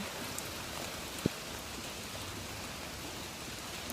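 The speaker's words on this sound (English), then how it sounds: "Now it's raining and I want to film outside still." Rain falls steadily outside, a dense, even hiss of drops on surfaces with one sharp knock partway through, and no one speaking.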